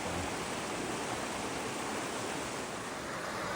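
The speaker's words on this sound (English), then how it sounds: "Here is our first view of West Creek Falls up there." Steady, broadband rush of West Creek Falls, a two-tier waterfall in Rocky Mountain National Park, heard from a moderate distance as a constant, fairly quiet roar with no voices.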